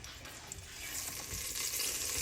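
Garlic frying in a curry pan just taken off the heat, a continuous close sizzle and bubbling that swells slightly louder toward the end, with occasional stirring noises and no talk.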